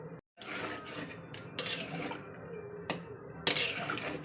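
Stock being poured into a pot of chicken curry with potatoes: a soft, close liquid splash and trickle with light clinks of a pot and utensil.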